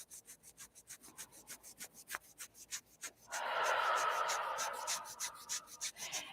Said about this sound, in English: I'm giving that a good rub.